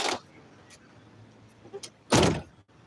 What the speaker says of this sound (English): Reach the pinky over and grab the door,